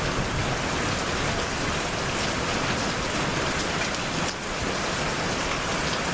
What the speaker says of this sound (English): you can probably hear the rain and the thunder